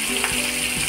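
Bombay duck fish frying in hot oil, a brief dense hiss of sizzling with a faint low hum underneath.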